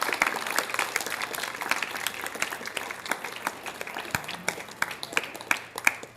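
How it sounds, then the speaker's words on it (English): A room at an evening school district LCAP planning meeting breaks into steady, fairly close applause for a woman being introduced, the dense clapping holding for about six seconds with no talk over it. "let's give her a huge round of applause"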